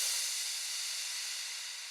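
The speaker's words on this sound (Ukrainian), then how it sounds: "В нього доволі яскрава атака і доволі довгий хвіст" A Drop Crash cymbal sample in a jump-up drum and bass production, heard alone with a bright attack already under way and a long, smooth hissing tail that slowly fades.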